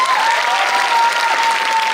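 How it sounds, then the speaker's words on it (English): Steady, loud audience clapping fills a live-streamed event hall, dense and continuous for a couple of seconds with a faint steady tone ringing underneath. "You can clap even more."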